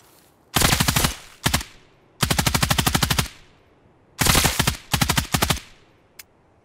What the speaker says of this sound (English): Shots this way.